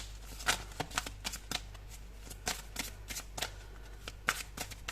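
Tarot cards being shuffled by hand produce quick riffling flutters and soft slaps in irregular bursts, close and fairly quiet, with no speech.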